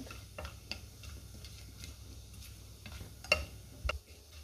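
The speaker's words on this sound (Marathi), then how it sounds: "आता तेलामध्ये तमालपत्र आणि हे खडे मसाले घालूया, छान मिक्स करून घेऊया" A bay leaf and whole spices are stirred in hot oil, giving a faint sizzle with light scraping and occasional sharp clinks of a spoon against the pan.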